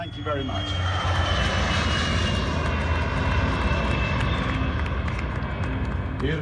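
Loud, steady roar of the carrier aircraft's engines lifting SpaceShipTwo (VSS Enterprise) on takeoff, a continuous dense rumble with a high whine, voices faintly audible beneath.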